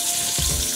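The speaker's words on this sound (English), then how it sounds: "we're gonna sear them off in a large Dutch oven" Lamb shanks searing in a large Dutch oven give off a steady, close frying sizzle, with a brief louder burst of crackle partway through.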